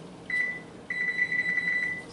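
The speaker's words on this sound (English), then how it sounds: "Setting my timer, leaving my door ajar." A kitchen timer beeps while cooking at the oven: one short high beep, then a longer run of rapid repeated beeps, fairly clear over a quiet room hum, with no talk.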